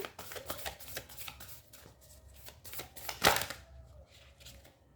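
Tarot cards being shuffled and drawn, a rapid run of soft papery riffles and slaps followed by a sharper card snap, close and fairly quiet with faint room noise.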